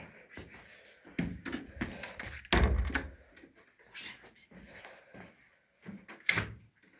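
A door in a Grenoble hotel room opens or closes with a few soft thuds and a firmer knock near the middle, alongside faint background voices.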